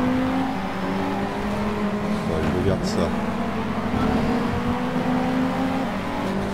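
A Ford Focus ST engine drones steadily and revs in the racing game Shift 2 Unleashed, with sustained harmonic engine tones throughout while someone talks over it.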